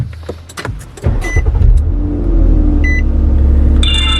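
A Nissan Maxima engine cranks and catches, then settles into a steady low idle rumble up close inside the cabin, with a few clicks and electronic beeps from the dash cam near the end.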